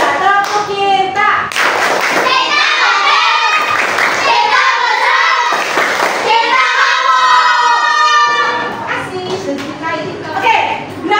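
A class of children performs a rhythmic patterned clapping routine, bursts of sharp claps alternating with chanted voices, loud and close, the group calling out between the clap sections.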